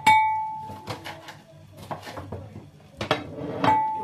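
Pineapple flesh goes into a cooking pot while making a hibiscus sobolo drink, with metallic clanks and clinks of pot and utensil in a few separate bursts, close by, with quiet gaps between.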